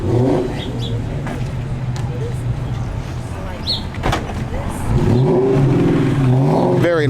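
A 2017 Tesla Model X accelerates with a rising electric whine and rushing road noise, while people chatter and exclaim over it nearby.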